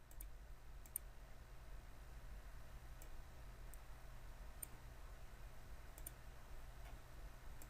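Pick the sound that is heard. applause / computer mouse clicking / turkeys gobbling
computer mouse clicking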